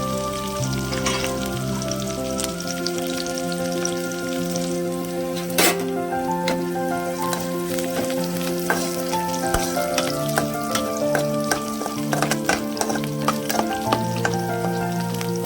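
Green chillies, cumin and curry leaves fry in hot oil as a tempering, giving a loud, continuous close-up sizzle with crackling pops throughout and no talking.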